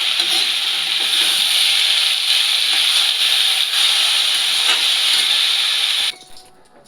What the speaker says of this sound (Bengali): ভাজা ভাজা হচ্ছে চচ্চড়িটা